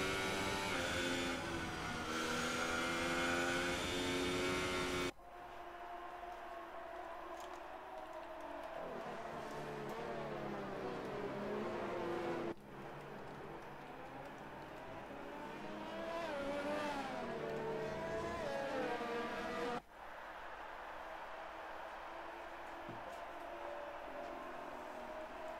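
Formula racing cars on a formation lap at the Mexico circuit in an F1 racing game, engine whine rising and falling with gear changes, steady and fairly loud, with sharp cuts between cars.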